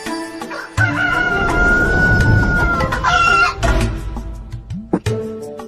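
A grey chicken clucks and a rooster crows loudly and close by, one long crow over steady farmyard clucking, followed by further cackling.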